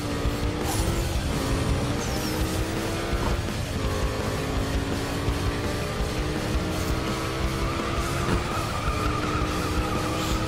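A Mustang Boss 302 drifts, its tires skidding and squealing under a loud, sustained engine roar that rises and falls across the run.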